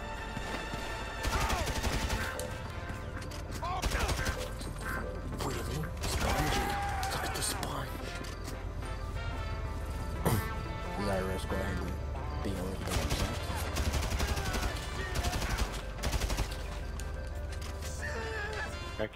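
Gunfire crackles through a busy GTA 5 Online firefight, with scattered sharp shots over a dense, steady bed of game sound that includes horse-like whinnies.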